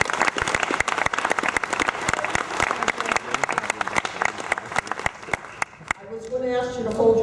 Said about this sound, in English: I was going to ask you to hold your applause